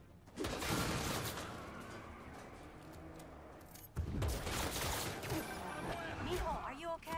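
Bursts of gunfire and crashing impacts in Marvel's Spider-Man 2 come in two loud volleys, the second starting abruptly partway through, with voices shouting amid the action.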